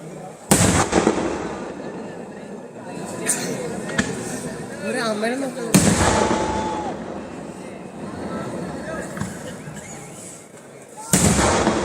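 Kerala temple festival fireworks, such as those at Nenmara Vallangi Vela, burst in a few sharp, loud booms spaced several seconds apart, with crackling between them and a news narrator talking over the sound.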